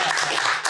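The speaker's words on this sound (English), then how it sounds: "Clap, clap, clap, clap, clap, y'all" A room full of people applauds in a brief, dense burst of clapping, close and loud.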